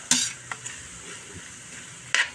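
Sliced eggplant added to a hot frying pan: sharp bursts of sizzle and scraping as pieces drop in, a couple of lighter clinks, then a steady low fry before another loud burst at the end.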